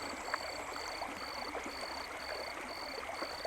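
Flowing water from a stream runs as a steady, even rush with no voices, faint and continuous under a repeating high electronic beep.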